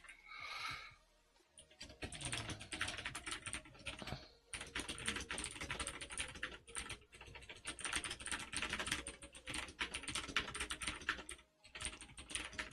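Fast, steady typing on a new computer keyboard, with close, crisp key clicks in continuous bursts and a few brief pauses.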